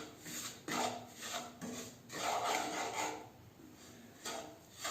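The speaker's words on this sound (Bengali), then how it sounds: "এভাবে নেড়ে নেড়ে সুজিটা ভেজে নিতে হবে" Semolina being stirred while it roasts in a pan makes soft, repeated scraping strokes in an uneven rhythm, faint and close, with no voices.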